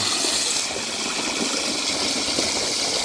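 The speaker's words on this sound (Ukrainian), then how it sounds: "Гаряча вода." Hot water gushing from an outdoor tap on a cold day, a steady full broadband rush of running water with steam, continuous and close for the whole stretch.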